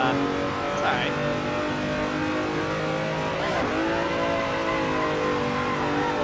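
Race car engine in the Assetto Corsa racing game, droning steadily with stacked harmonics and a quick rev change as it shifts into fourth gear, loud and continuous throughout.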